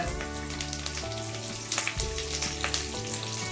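Mustard seeds and about eight curry leaves hit hot oil with cumin already in the pan, producing a dense sizzle broken by sharp crackles and pops, close and continuous, with no talking.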